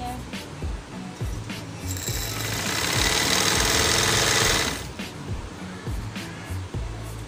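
A sewing machine stitches a belt on a dhoti shalwar, with quick rhythmic needle clatter, a sustained whirring run in the middle and shorter stitching bursts before and after, close and fairly loud.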